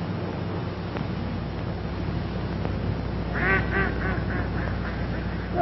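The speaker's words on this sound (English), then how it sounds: "Look at those ducks." Ducks quacking in a run of rapid, descending calls near a golf course, heard over a steady windy, surf-like outdoor background, fairly close and clear, with no talk.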